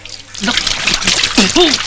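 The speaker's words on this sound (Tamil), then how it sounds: "கொஞ்சம் தண்ணியை ஊத்தி கழுவி விடுறியா ப்ளீஸ்?" Water poured out to wash, salty corporation tap water in Madras, trickling and splashing in short uneven bursts close by while a voice speaks over it.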